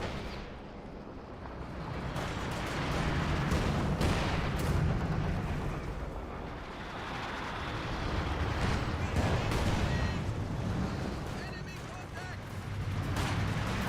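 Mortar blasts and gunfire from a Company of Heroes 2 battle rumble continuously at fairly steady loudness, dense booms and crackling shots layered with faint voices throughout.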